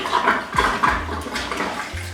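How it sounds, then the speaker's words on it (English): Tap water runs into a clogged sink, a splashing, gurgling flow with a few low glugs from the blocked drain, close and fairly loud with no talk. "let's just run a bit of water just for the fun of it"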